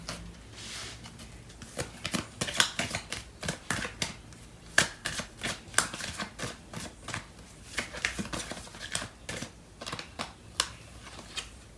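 Tarot cards shuffled and handled continuously at close range, a dense run of quick riffling flicks and slaps with no voice.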